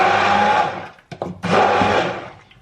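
A kitchen blender purees mango for homemade ice cream, loud and continuous, briefly stopping with a few clunks near the middle before the motor whirs up again.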